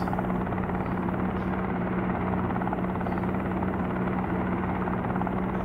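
Helicopter engine and rotor in a Helicopter Simulator game as the throttle is brought up, giving a steady loud droning whine with a constant low hum, continuous and close with no talk over it.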